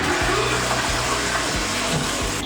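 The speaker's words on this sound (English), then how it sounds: "Is that the flush toilet?" A flush toilet at a Melbourne art display roars with steady, loud rushing water, with low rumbling pulses under it and no talking.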